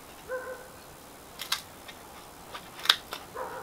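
Scissors or snips cutting wooden garden labels: a handful of faint, sharp snips and clicks spaced irregularly over a few seconds in a quiet room.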